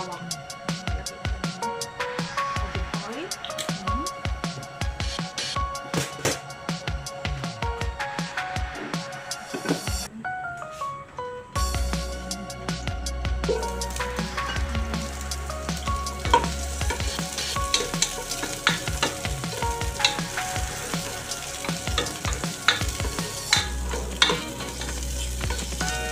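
Garlic sautéing in a pan for beef caldereta, with steady sizzling and frying hiss and repeated stirring scrapes, loud and close, running throughout with no talk.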